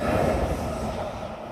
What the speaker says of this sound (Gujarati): ટ્રેન આવી રહી છે આ બાજુથી